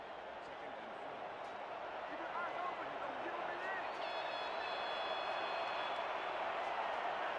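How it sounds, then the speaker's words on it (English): A home crowd at a simulated league football game roars continuously to fire up the defense, a dense, steady wash of cheering with a brief whistle-like tone partway through. "Listen to that home crowd trying to fire up the defense."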